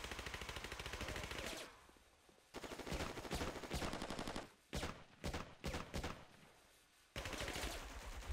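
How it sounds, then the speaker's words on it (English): Sustained automatic gunfire in the WW2 Online video game, dense rapid bursts of machine-gun fire broken by brief pauses and single volleys, loud and continuous with no talk. "Be a lot of gunfire."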